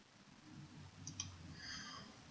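A single mouse click on the plus sign in gradebook software, a faint short tick heard over a low steady background hum with no talking.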